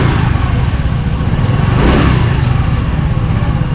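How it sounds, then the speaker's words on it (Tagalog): A Honda Navi 110 motorcycle engine runs close by in a steady, loud mechanical drone with a rough, slightly rising surge near the middle, and no talking over it. "Ito yung andaran guys ng Nabi natin,"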